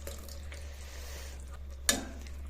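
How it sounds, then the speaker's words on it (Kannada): Water poured into a cooking pot of pulav spiced with garam masala and a little curd gives a soft, steady hiss, faint and continuous, with one sharp click near the end. "ನೀರು ಹಾಕಿ ಒಂದು ರೀತಿ ಮಿಕ್ಸ್ ಮಾಡಿ ಹಾಕಿದ್ದೀನಿ."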